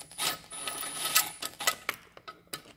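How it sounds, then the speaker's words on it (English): A pneumatic impact gun tightens ball joint bolts on a VW Jetta Mk4, giving several short, close whirring and rattling bursts in quick succession with brief gaps between them. "the impact gun has a couple of settings"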